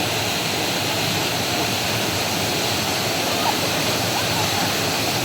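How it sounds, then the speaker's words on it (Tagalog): Steady, loud roar of Bukal Falls waterfall in Majayjay, Laguna, a continuous broadband rush of falling water with no break, heard up close. "Ito yung galing ang tubig, guys, ng Bukal Falls."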